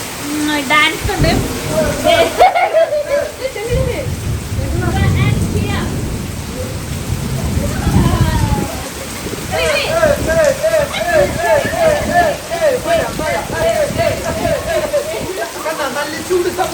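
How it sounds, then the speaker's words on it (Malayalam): Heavy rain pours down at night in a steady, dense hiss, with people talking over it through much of the stretch. "നല്ല ചൂട് സമയത്ത് നമ്മൾ പ്രതീക്ഷിച്ചിരുന്ന മഴയാണ് നല്ലത്"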